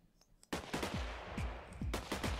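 Rapid bursts of gunfire from a gun mod in Minecraft, a quick run of sharp shots each trailing off in a low boom, loud and close with no talking.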